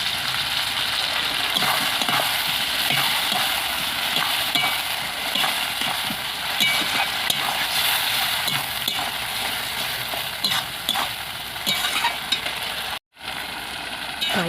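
Spice paste fries in a pan for a potol (pointed gourd) and shrimp curry, a steady, loud sizzle with occasional stirring scrapes, near and unbroken except for one brief dropout, with no talk.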